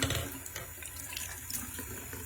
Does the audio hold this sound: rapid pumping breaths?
no